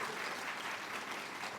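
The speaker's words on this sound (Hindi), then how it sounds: "तो सब लोग एक बार ताली बजाइए" An audience inside a hall claps together, a dense, even wash of applause from many hands, sustained and fairly distant without a break.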